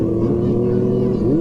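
Kawasaki ZX25R motorcycle with a bore-up engine revving close and loud, a steady buzzing roar that holds through a short burst, with a voice talking over it.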